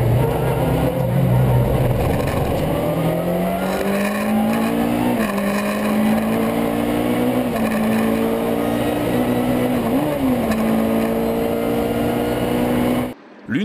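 A VW Golf 2 race car heard onboard under sunshine at Francorchamps, its engine droning loud and close, pitch climbing steadily through gears with brief shifts, under a commentator's voice, cutting off abruptly at the end.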